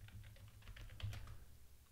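A password typed on a computer keyboard: a quick run of light, close key clicks in a fast, slightly uneven rhythm, faint and alone for about two seconds.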